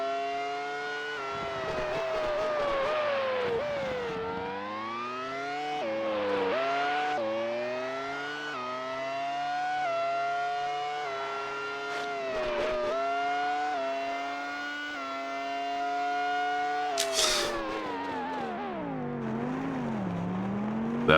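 High-pitched V12-era race car engines from the N64 game Monaco Grand Prix whine up and down through repeated gear shifts and braking, with brief tire squeals, loud and continuous from the player's car.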